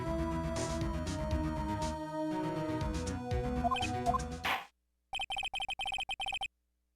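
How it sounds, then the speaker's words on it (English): A mobile phone rings in quick repeated electronic trills, a clear pulsing ringtone that starts after the game's music cuts out, bright and close, with no talking over it. "Sorry for my phone going off."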